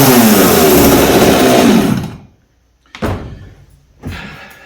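A ported Poulan 54cc chainsaw roars loudly at steady high revs for about two seconds, then cuts out to silence, followed by two short separate clunks.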